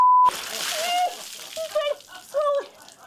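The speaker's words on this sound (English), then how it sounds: "So that bucket of water on my head." Cold water from a bucket sloshes and splashes over a person's head in a brief rush, followed by voices and gasping reactions.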